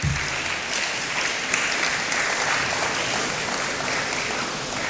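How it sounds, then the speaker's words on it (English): An audience at a scientific conference in Africa claps loudly and steadily for about five seconds, a dense and even wash of clapping throughout. "So clap for yourselves,"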